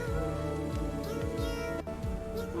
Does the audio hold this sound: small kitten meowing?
yes